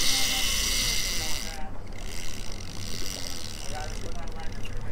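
A fishing reel in free spool pays out line on a deep drop for golden tilefish from a boat, making a steady, close mechanical ratcheting whir that runs almost without a break.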